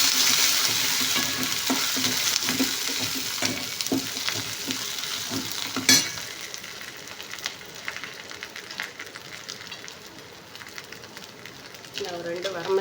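Garlic fries in hot oil with a dense, crackling sizzle and rhythmic stirring scrapes at first, then settles into a quieter steady sputter, with a voice speaking faintly at times.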